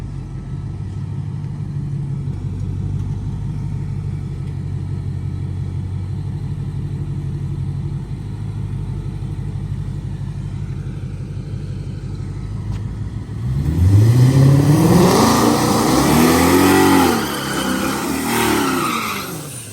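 A twin-turbo Coyote drag car engine idles with a low, steady rumble, then revs up sharply with rising and falling pitch in several loud pulls near the end.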